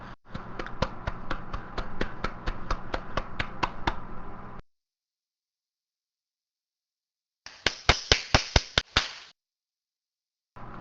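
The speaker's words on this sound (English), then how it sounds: "Two-finger clap to High Intensity Records." Round of two-finger clapping, a fast even run of about fifteen sharp light claps, a pause, then a shorter burst of about eight, close and fairly loud with no talk.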